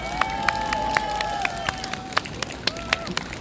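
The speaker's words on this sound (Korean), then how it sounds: "김재동 목사님께 다시 한번 뜨거운 박수 부탁드리겠습니다" A live audience at a Korean talk show claps for Pastor Kim Jae-dong, with a wash of hand claps, scattered sharper individual slaps standing out, and a voice carrying over the clapping.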